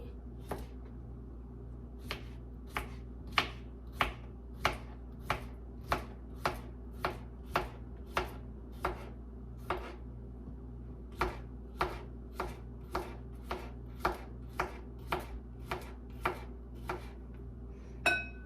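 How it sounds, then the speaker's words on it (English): A knife chops cucumbers on a cutting board for a healthy recipe, with sharp, evenly spaced strokes, about two to three per second, that are close and distinct and continue steadily with no one talking. "we're just gonna cut up the cucumbers here real quickly"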